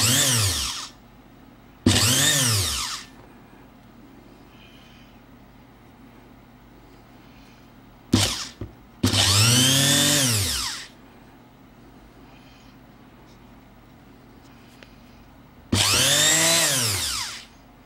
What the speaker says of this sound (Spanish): Aquí vamos a conectar 220 voltios y cada uno de ellos va a hacerlo girar en una velocidad distinta.